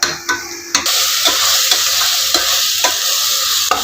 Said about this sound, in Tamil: பிரியாணியோட தாளிப்பு இலை பிரியாணி இலை ரோஸ் ரோஸ் இதெல்லாம் போட்டு நல்லா வணக்கிக்கலாம்